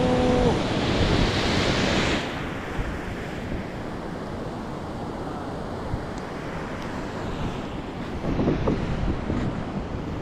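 Arabian Sea waves washing onto a sandy beach, a continuous roar of surf with wind buffeting the microphone, loudest at the start and swelling again near the end.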